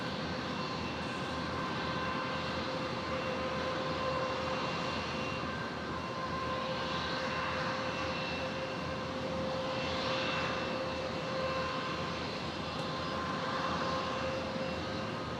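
A QantasLink Dash 8 turboprop taxis toward runway 01 left at Brisbane airport, its engines a steady droning hum with a fixed propeller whine, moderately distant and unbroken for the whole stretch, without talk.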